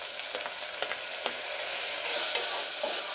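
Chopped tomatoes sautéing with softened onions in a pan for wheat rava kichadi, a dense, steady hiss of frying with a few soft stirring scrapes, close and continuous, with no talk.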